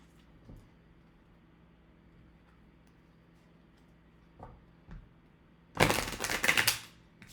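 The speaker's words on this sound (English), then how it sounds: "Excuse me, as I shuffle." A tattoo-themed card deck being shuffled: a few soft, isolated taps and flicks in a quiet room, then a loud, rapid riffling burst lasting about a second near the end.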